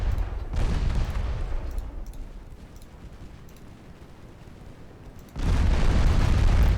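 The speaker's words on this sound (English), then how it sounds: "Oh, there's some torpedoes coming in." Explosions in a naval war strategy game, likely torpedo hits: a loud booming burst at the start fades to low rumble, then a second heavy blast erupts near the end, with no voices.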